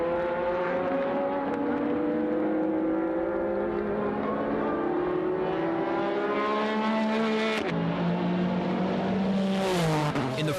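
A Nissan GT-R racing at Fuji chased by Toyota Supras, engines howling loud and continuous with rising and falling pitch through gear changes, ending in a sharp rev climb.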